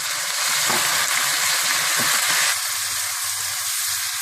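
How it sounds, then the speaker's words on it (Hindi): Rice frying in a pan for zarda, a sweet rice dish, with water poured in, giving a loud continuous sizzle and hiss with stirring sounds and no talk. "थोड़ा सा भूनने के बाद आप इसमें पानी डाल दें।"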